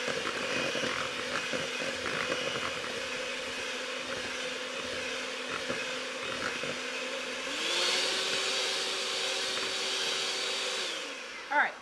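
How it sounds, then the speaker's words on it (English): A stand mixer runs at medium speed kneading dinner roll dough, a steady motor whine with a rhythmic clunk as the dough slaps around the bowl, its pitch rising as the speed shifts partway through before stopping with a brief clatter. "You're doing the majority of your kneading with your mixer."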